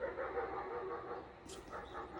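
A dog barks and yips in a few short, fairly faint bursts against a murky background with no clear talk.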